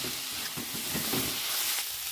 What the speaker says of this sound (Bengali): চিনিটা দিয়ে দিয়েছি, এবার একটু হালকা লাল লাল করে ভেজে নেব।